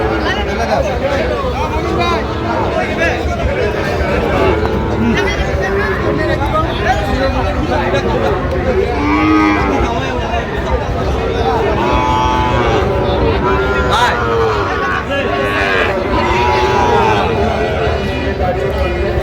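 Sahiwal cattle and bull calves at a Dhaka livestock market moo repeatedly amid a busy crowd, their calls mixed with steady babble and nearby talk.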